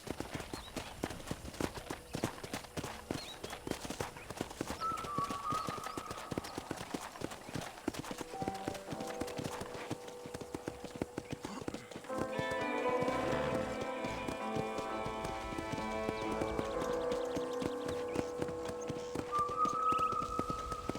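Steady clip-clop of horse hooves trotting at a brisk, even rhythm in the video game Red Dead Redemption, joined midway by a soft music bed underneath.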